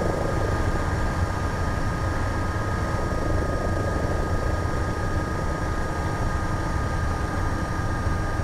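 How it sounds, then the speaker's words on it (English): A steady helicopter drone in the Aerofly FS flight simulator, flying around San Francisco, with a constant rotor-and-engine roar that stays level throughout, with no voices. "So I usually fly around San Francisco in my helicopter"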